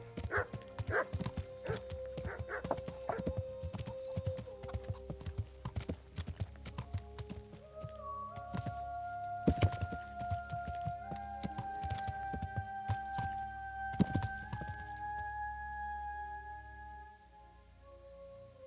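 Horse hooves clip-clop steadily in the medieval game Kingdom Come: Deliverance, a close, rhythmic run of hoofbeats with occasional snorts, while held musical tones rise over the second half.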